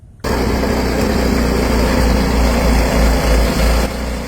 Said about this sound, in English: idling his snowblower